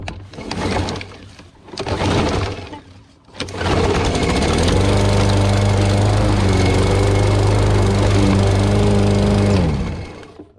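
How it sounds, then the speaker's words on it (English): A riding lawn mower sputters through a couple of start attempts, then its engine catches and runs steadily and loudly near at hand while mowing a remote deer food plot, holding a constant drone until it fades at the end. "I'm gonna just show you a little bit of the mowing"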